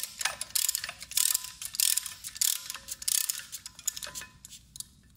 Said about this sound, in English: So here is a ratcheting system. When I flip it, it will start basically expanding the tool.